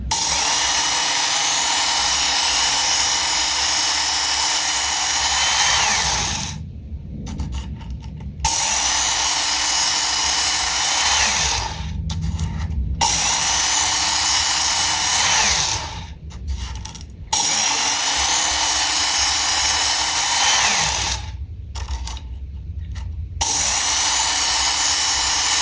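A Work Sharp Ken Onion Edition belt sharpener grinds a knife blade in loud, continuous passes of about five seconds each, separated by short silent pauses, four times in a row.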